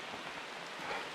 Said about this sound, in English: Well, the rain is back.